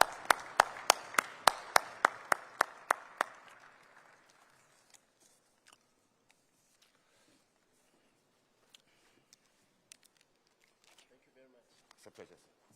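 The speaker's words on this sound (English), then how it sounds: "Big round of applause." At an investment conference, a short run of about ten sharp, evenly spaced claps rings out close and loud, then fades into a quiet room with scattered faint knocks and shuffling.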